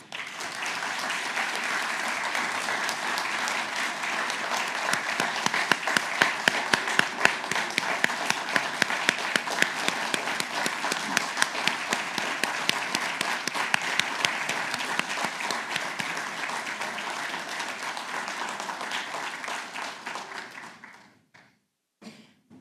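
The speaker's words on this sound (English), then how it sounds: "Please join me in giving all of our award winners a round of applause." Audience applause for award winners at an awards ceremony: sustained, dense clapping from a large crowd for about twenty seconds, steady and loud, then quickly dying away.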